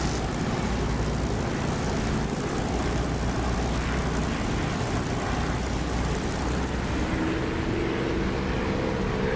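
A Spitfire's piston engine drones loudly and continuously during a landing in the DCS flight simulator, a dense, steady propeller-aircraft roar that never lets up.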